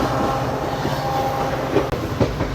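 A Bathinda–Firozpur passenger train runs steadily over the tracks, its continuous loud rumble carrying faint rhythmic wheel clicks, with a brief dip and a couple of knocks near the end.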